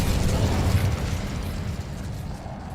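A fire spell bursts out in the Hogwarts Legacy game, a loud, dense whoosh of roaring flame that holds steady for nearly three seconds and then eases slightly toward the end.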